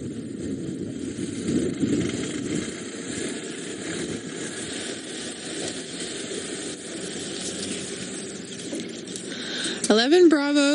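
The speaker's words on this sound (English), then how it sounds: "we're going to have another couple of vehicles moving in and out of here" A low safari vehicle engine idles steadily nearby throughout, with faint voices underneath and a brief warbling electronic tone near the end.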